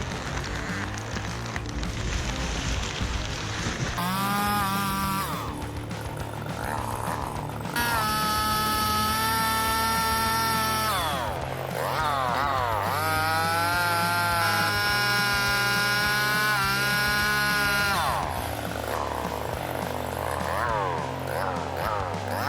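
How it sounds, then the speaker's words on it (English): A fast, dangerous chainsaw cutting wood runs at high revs with a loud, steady engine whine that rises and falls in pitch as it bites and eases off, continuous and close throughout. "The chainsaw blade consists of a long metal guide bar with a sharp-toothed chain wrapped around it."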